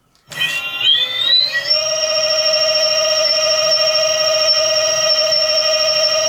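A home-made electric mountain bike motor revs up on full throttle, its whine climbing in pitch in jumps, then holding a steady high tone close by.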